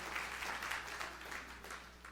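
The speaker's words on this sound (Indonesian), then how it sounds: "Tepuk tangan yang meriah untuk amin." Congregation applause during a church sermon, a soft, distant-sounding patter of many hands clapping, faint but continuous over a low steady hum.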